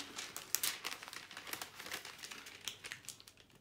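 Sketch paper being handled and folded at its midpoint, a run of close, soft crinkling and creasing rustles with a sharper crackle near the start, quiet and without talk.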